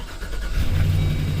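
A 2007 Chevrolet Express 3500 van with a 6.0L engine cranks and catches, settling into a steady low rumbling idle, close and fairly loud with no talking.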